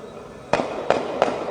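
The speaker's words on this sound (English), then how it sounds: "There's the shooting." Three sharp gunshots at a shooting in Seattle's CHOP zone, heard from a played news recording, spaced roughly half a second apart against a low background hiss.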